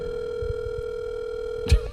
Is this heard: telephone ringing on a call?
yes